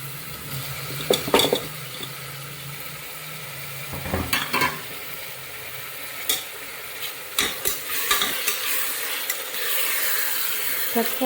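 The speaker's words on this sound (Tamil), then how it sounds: "தக்காளி சேர்த்து நல்லா வதங்குற அளவுக்கு நல்லா வதக்கிக்கலாம்." Tomatoes with green chillies sauté in a hot pan, a steady sizzle broken by repeated scraping stirs and spoon knocks against the metal, close and moderately loud with no talking.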